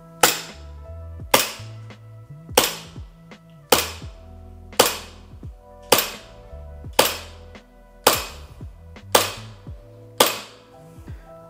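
Shots from a SIG Sauer P320 ProForce gas airsoft pistol, ten sharp cracks fired at an even pace about a second apart, each followed by a short metallic clack and ringing decay.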